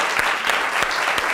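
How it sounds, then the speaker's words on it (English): Steady, dense audience applause at a televised courtroom show, many hands clapping close together with a few sharper claps standing out, loud and continuous with no talking. "Y'all better not clap until you hear the man."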